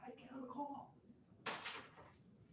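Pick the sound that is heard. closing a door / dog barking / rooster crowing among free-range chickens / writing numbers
closing a door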